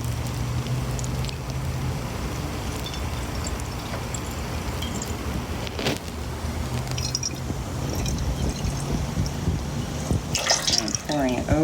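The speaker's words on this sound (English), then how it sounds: "I'm going to fill this bottle here with water" Water is poured to fill a bottle held over a bucket of water, giving trickling and dripping splashes that rise toward the end, while someone talks throughout.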